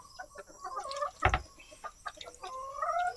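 Chickens cluck and squawk at feeding time, several birds calling in short overlapping bursts at moderate distance, with one sharp louder squawk in the middle.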